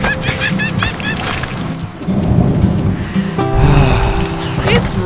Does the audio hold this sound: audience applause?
no